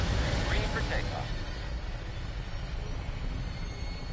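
An aircraft takes off in the video game Fallout 4, a steady, broad engine roar that holds at an even level throughout, with talking over its first part.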